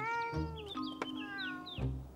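A cartoon kitten stuck high in a tree meows several times in quick succession, high and plaintive, close and clear with no talking over it.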